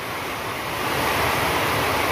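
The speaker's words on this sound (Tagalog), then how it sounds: "Lakas ng ulan ngayon." Heavy rain pours down in a steady, dense roar of broadband noise that holds constant throughout, with no voices.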